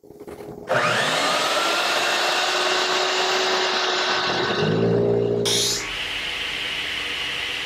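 A woodshop dust collection system switches on with a sudden loud whoosh, then runs as a steady high motor whine and airflow roar, shifting pitch briefly before settling into a lower hum.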